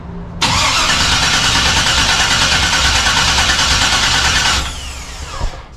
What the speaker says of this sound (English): I'll turn the key to crank it